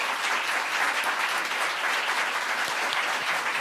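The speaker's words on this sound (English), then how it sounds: "please join me in giving a big warm round of applause for our panellists" A panel-discussion audience gives a warm round of applause for the panellists, dense, even clapping throughout with no voices.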